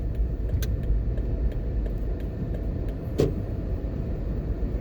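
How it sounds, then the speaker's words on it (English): A car drives past hotels in New Kingston, Jamaica, with a steady road rumble and engine hum, plus a couple of sharp clicks or knocks, heard from inside the vehicle with no talking. "We're going to drive through the court now."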